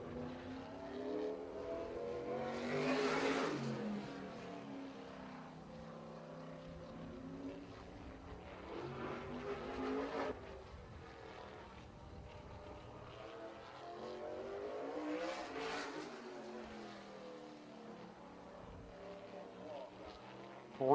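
Little 500 sprint cars roar around Anderson Speedway on a qualifying lap, engine noise swelling and fading in repeated passes from a distance, with a commentator talking underneath.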